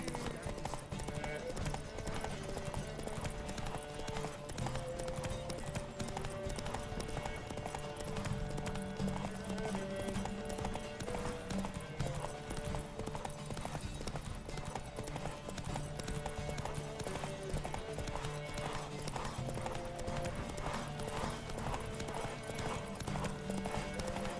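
Horse galloping in The Witcher 3: Wild Hunt, a steady clip-clop of hooves running through the clip under continuous game music, with occasional speech and a possible whinny.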